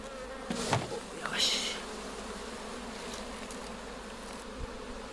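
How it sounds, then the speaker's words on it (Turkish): Honeybees, drones among them, buzz around an opened beehive with frames of stored pollen. A constant, soft hum runs throughout, with a couple of louder, closer passes near the start. "Erkek arımız var."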